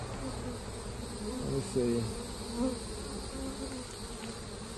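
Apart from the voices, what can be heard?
bees buzzing in a swarm trap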